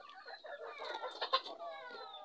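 A chicken clucking near a home kitchen, a short run of quick, close clucks over about two seconds, moderately loud with no talk.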